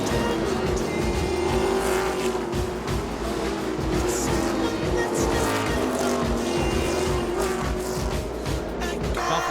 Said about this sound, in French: Le 74, Kevin Lacroix tente l'extérieur sur Dumoulin.